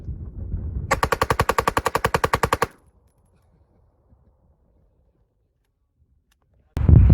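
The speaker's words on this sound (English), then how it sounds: "I wanted to have a fully automatic pistol with a low rate of fire, or at least lower than normal and without any special delay mechanism" A suppressed fully automatic pistol with a lower than normal rate of fire lets off one loud burst of roughly seventeen evenly spaced shots, followed by long silence and a sudden loud noise at the end.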